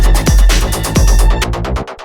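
Electro techno synth with filters swept by an LFO, loud and pulsing in dense, driving bursts, then thinning out into a rhythmic series of short filtered stabs near the end.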